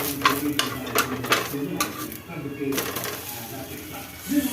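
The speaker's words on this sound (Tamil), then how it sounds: "இதை நம்ம திருப்பி போட்டுடலாம்." A ragi dosa being flipped over on a hot oiled pan, giving scraping and clinking spatula contacts in short bursts with a faint sizzle underneath, close and moderately loud.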